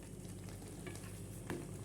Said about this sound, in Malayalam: റവ ഇട്ടിട്ട് നമുക്ക് എളുപ്പത്തിൽ ഇത് ഇളക്കണം,